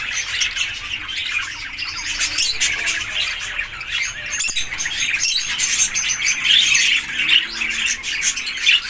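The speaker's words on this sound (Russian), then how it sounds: "Мир птиц." Many birds squawk and chirp together at a bird park, a dense, busy chorus of sharp calls that carries on without pause, fairly loud and close, with no talking.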